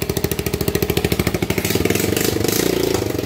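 A motorcycle engine freshly converted to 200cc idles close by with a steady, loud, even chug, its pulses quickening slightly as the idle rises toward the end.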